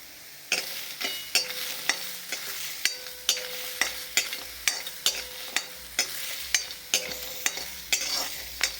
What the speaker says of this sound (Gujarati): પિસ્તાને પણ નોર્મલી શેકી દઈશું।